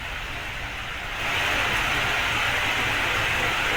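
Steady rain pours down in Pauri, Uttarakhand, a broad hiss that grows louder after the first second and then holds constant with no voices over it.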